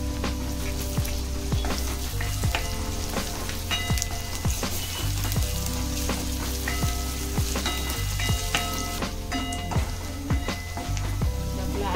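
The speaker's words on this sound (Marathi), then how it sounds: "कांदा आपला चांगला भाजला आहे, आपण त्याच्यात लसूण टाकूया आणि आलं पण टाकूया आणि चांगलं भाजून घेऊया जरा।" Onion, garlic and ginger fry in a pan for a tomato and sev curry, a steady dense sizzle and crackle running throughout with scattered small pops and scraping, close and fairly loud, no talking.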